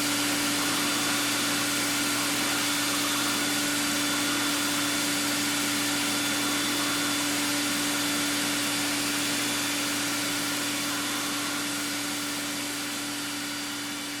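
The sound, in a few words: vacuum cleaner nozzle running beside pen-making lathe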